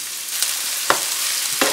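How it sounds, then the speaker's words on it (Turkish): Onions sauté in a generous amount of oil for eggplant gözleme, giving a bright, steady sizzle close by, with a few brief scrapes and taps from stirring. "Soğanları biraz kavuruyoruz."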